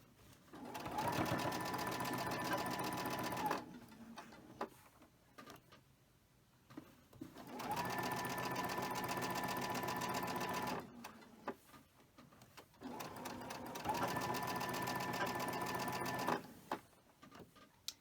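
Sewing machine stitching quilt fabric at a slow, steady pace, running in three long bursts of several seconds each with short pauses between, loud and close.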